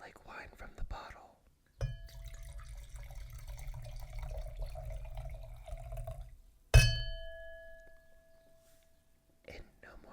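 Wine pours from a bottle into a glass in a quiet room, a soft, steady gurgle lasting a few seconds that ends with a bright glass clink, while someone whispers around it.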